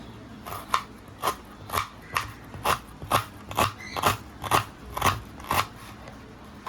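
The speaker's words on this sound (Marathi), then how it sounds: "आता मी हातानेच कापते अशी" Onion and tomato are cut by hand with a knife in about a dozen evenly spaced, crisp chopping strokes, close and clear against a quiet kitchen background.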